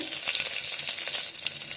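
Loud, close crackling sizzle of mustard seeds, urad dal, fenugreek, cumin, dried red chillies and garlic frying in hot oil for tomato sambar, continuous with small popping bursts.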